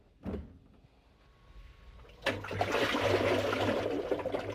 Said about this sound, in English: This is a sealed balance ring that helps your washer run smoothly and efficiently.